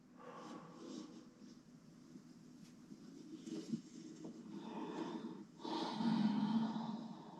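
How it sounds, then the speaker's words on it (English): Deep, slow breathing during a yoga session, soft snorting inhales and long exhales close to the microphone, growing fuller toward the end with no talking. "Breathing deep."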